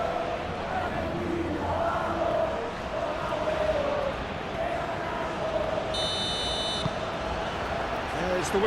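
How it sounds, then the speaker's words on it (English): At the kickoff of an Argentina versus France World Cup final, a bright, high referee whistle sounds over the loud, steady roar of a packed stadium crowd, with commentators talking throughout. "There's the whistle."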